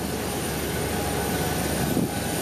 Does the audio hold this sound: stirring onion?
no